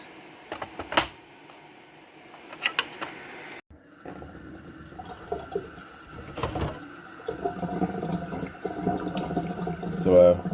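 Water runs over the parts of an RTX 3070 graphics card during teardown, a steady splashing wash that starts after a few clicks and handling noises, close by, with a person talking at times.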